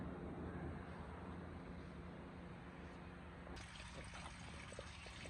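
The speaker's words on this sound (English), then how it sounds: "I'm gonna cut Mom's water on and see if Brandon fixed it" Water switched on through the plumbing of a camper after freezing-weather repairs, a steady hiss of running, pouring water that grows brighter partway through, with no talk.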